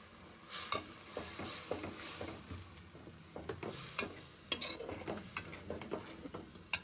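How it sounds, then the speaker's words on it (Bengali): Potatoes cooked with cumin, turmeric and chili powder, stirred in a pan: repeated scraping and clinking strokes of a spatula over a low sizzle, close up, in a steady uneven rhythm. "আলুর সাথে মশলাটা খুব ভালোভাবে কষে গিয়েছে"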